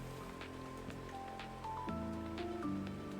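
Rain in the game Minecraft, a soft continuous patter of falling drops, faint and steady, with a few sustained tonal notes layered over it and no talk.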